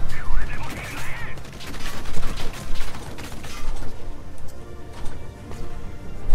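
Rapid volleys of gunfire in Valkyria Chronicles 4 crackle over a dense wash of mechanical clatter and noise, loud and continuous with little pause.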